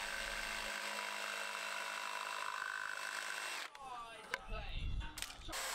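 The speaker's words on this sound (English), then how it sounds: "so I did that with the jigsaw." A jigsaw cuts window box material during a Mercedes Sprinter campervan conversion, giving a steady, loud buzzing whine for several seconds before it stops and a few clattering knocks and rattles follow.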